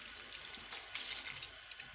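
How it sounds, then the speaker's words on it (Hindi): Water comes to a boil in a pot for Sindhi biryani. It makes a steady, hissing bubble and seethe, with a few brief splashy surges, close by and with no talk. "पानी में उबाल आ गए हैं"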